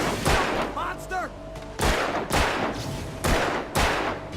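Booming gunshots ring out in the Alan Wake video game, five or six heavy blasts spaced about half a second apart, loud and reverberant, with a brief whooshing effect between them.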